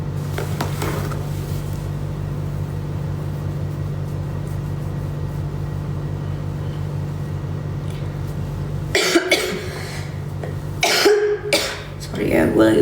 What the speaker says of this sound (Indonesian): Sorry ya, gue lagi batuk.